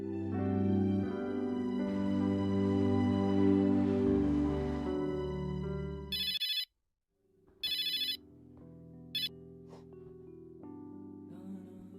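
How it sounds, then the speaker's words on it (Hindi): A landline telephone rings in clear electronic bursts, first under steady music, then as separate, distinct rings with short gaps after the music cuts out. "लैंडलाइन पर कोई फोन आया था तुम्हारे लिए"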